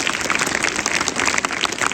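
A Hindi-speaking audience of children gives a burst of loud, dense applause, steady and close for a couple of seconds with no talking.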